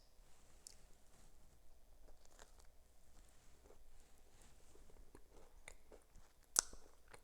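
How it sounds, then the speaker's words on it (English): Someone bites into and chews a crunchy crust of homemade sourdough walnut bread with maple, giving soft close-up crunching and chewing sounds with one sharp crackle of the crust near the end, no talk. "let's try a bite."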